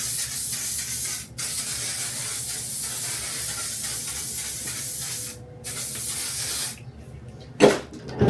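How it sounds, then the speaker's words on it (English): A steady hiss of Kenra Volume Spray hairspray from an aerosol can, sprayed in long continuous bursts with brief pauses and a short clatter near the end. "We're going to use the Kenra Volume Spray."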